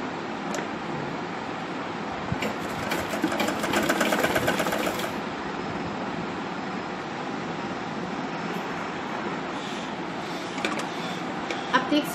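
A sewing machine runs a stitch to attach a zip onto a sling bag made from waste material, in one close, steady burst of needle clatter, then quiets to a background hum with faint voices.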